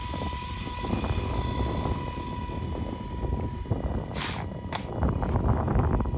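Blade 230s radio-controlled helicopter flying outdoors in cold, windy weather, a steady whirring rotor and motor drone that holds at moderate level throughout, with wind noise and a couple of brief higher swishes near the end.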